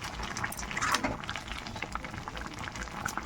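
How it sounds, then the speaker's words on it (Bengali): Cabbage boiling in a pot on the stove, a soft steady bubbling with faint burbles and gentle liquid movement, quiet and close, with no talk. "দেখো সিদ্ধ হয়ে গেছে বাঁধাকপিটা"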